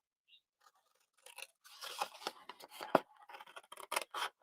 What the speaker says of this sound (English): So we're going to cut this completely off.